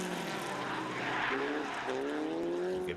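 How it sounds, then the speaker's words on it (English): A Formula Sheane race car on the last lap at the Leinster Trophy, its engine revving as the driver plays with the throttle, a rising, wavering whine heard from a distance under trackside noise. "Hear him playing with the throttle there in the back end of the car out"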